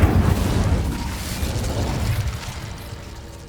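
Incendio fire spell cast in Hogwarts Legacy: a loud, broad whooshing burst of flame that flares at once, then rolls into a fading roar over a few seconds, with no talking.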